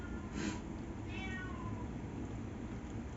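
A stray neighbourhood cat meows a couple of times, drawn-out and somewhat distant, over a steady background hum in a home kitchen.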